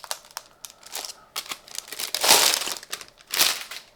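A cheap plastic bag crinkles loudly and close up as a comic book is unwrapped, in irregular bursts of sharp crackling that rise and fall with no talk.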